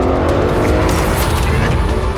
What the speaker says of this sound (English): This 2-liter TSI just pulls and pulls and pulls, and it keeps on pulling.